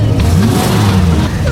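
A truck engine revs hard and loud in a tense film chase, a dense low rumble rising in pitch, with a voice talking over it.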